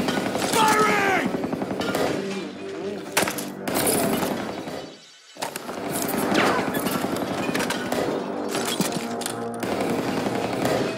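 Rapid bursts of automatic gunfire rattle loudly in the video game Homefront: The Revolution, repeating throughout with a brief lull midway, mixed with other game sounds and occasional voices.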